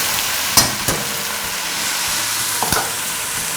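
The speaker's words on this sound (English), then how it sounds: "Now I'm stirring this rice so that the rice is coated with the ghee or oil." Rice fried in hot ghee or oil with garlic, stirred in a pan, giving a steady broadband sizzle with a few sharp scrapes and knocks of the spoon.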